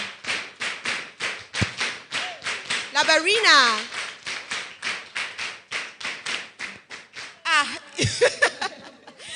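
A group performs a rhythmic call-and-response clap chant, the Atama clap, at a live session: sharp, evenly spaced claps in a steady beat, with chanted voices and laughter woven between them.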